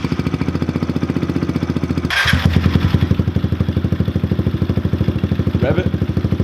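Kawasaki KLX110 pit bike engine idling close by about five feet away, a loud rapid steady putter with a brief clatter partway through.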